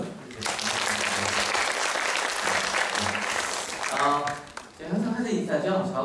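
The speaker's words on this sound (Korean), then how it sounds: "박수 한번 부탁드리겠습니다." Congregation applause at a Korean church Sunday service, a steady wash of clapping across the whole stretch, with voices and talk rising near the end.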